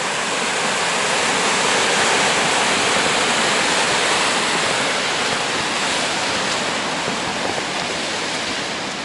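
Clear meltwater from thawed snow rushes steadily over stones in a stream, a loud, continuous close-up flow with no voices.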